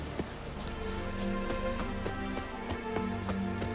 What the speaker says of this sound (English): Run, Roach. Bloody fine mount.